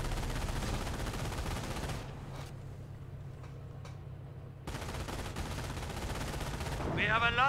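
Gunfire in Company of Heroes, a World War II strategy game, with dense rapid bursts filling most of the stretch, a quieter gap in the middle, and a voice briefly heard near the end.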